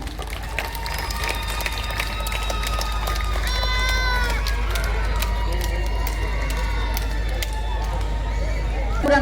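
Audience applause at a Sindhi Muslim Mehar Society award ceremony in Jodhpur, a steady wash of clapping from a crowd indoors, continuous for the whole stretch with a few cheers and voices mixed in.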